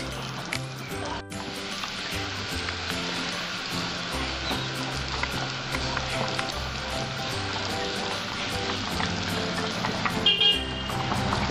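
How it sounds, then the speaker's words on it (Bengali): A pot of Bengali catfish curry (magur macher jhol) bubbles and sizzles steadily at close range, a continuous crackling simmer with a brief dip near the start. "দেখুন আমার ঝোলটা ফুটছে"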